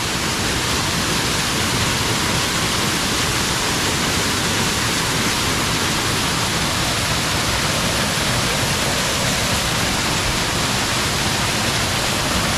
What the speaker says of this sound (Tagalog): Grabe, ang ganda ng falls.